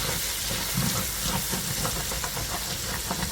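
Onions sauté in a pan with a steady, close hiss and sizzle of frying, running evenly throughout with faint stirring underneath and no talk.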